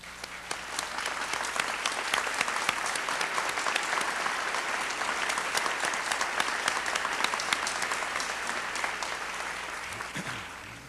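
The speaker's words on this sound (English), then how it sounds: "And Fred, please do stand for our applause." At a 1993 dedication of the Wendell W. Wright Education Building, an indoor audience gives steady, sustained applause of many hands clapping at once, with no talking, for about eleven seconds before it begins to fade.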